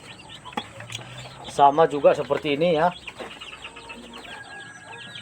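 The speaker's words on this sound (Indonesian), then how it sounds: "Dan ini adalah DOC ayam kampung kita." Young kampung chicks, Mardi crossbreds a few weeks old, peep and cluck in a rapid warbling burst near the microphone. Someone talks before and after the calls.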